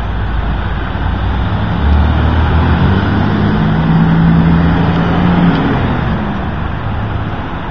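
A bus bearing a Greyhound symbol drives past on Columbus Boulevard, a loud, close, steady engine roar and tyre rumble that swells briefly in the middle, over constant roadway traffic noise.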